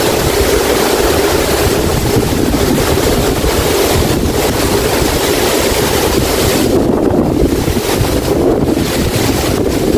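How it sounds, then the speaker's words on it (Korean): A tailwind blows during a walk along country roads, loud wind buffeting the microphone in a constant roar with gusty surges and no voices. "와, 뒷바람이 불어서 좋은데."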